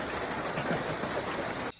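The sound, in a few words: heavy rain falling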